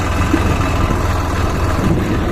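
A tractor engine runs steadily at idle, a continuous low, dense drone with a throbbing rumble that holds even and close throughout, with no voices over it.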